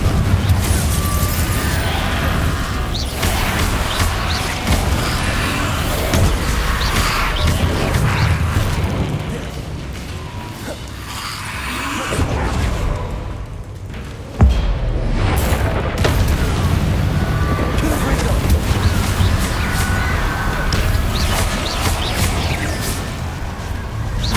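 Repeated booming blasts from the Confringo fire spell in Hogwarts Legacy, loud and dense across the whole stretch amid combat clatter, with brief dips between bursts and a sharp crack midway.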